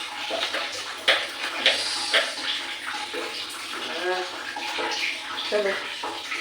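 Tap water drawn into a bucket splashes and pours steadily in an indoor bathroom setting, a continuous close watery rush with some clanks as people talk over it.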